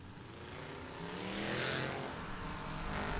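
A big winged Newport Chrysler race car leaves the line at a drag race, a loud engine roar swelling midway and then holding steady at a distance.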